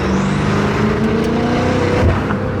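Loud Mercedes engine with a rising turbo whine that sweeps upward over a throaty rumble, close and continuous, in traffic.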